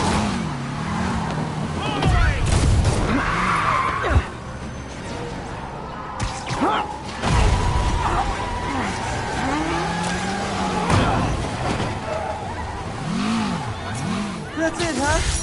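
Car driving and skidding during a chase in a Spider-Man game, with engine roar, squealing tire slides and swerving tones, loud and continuous under overlapping voices.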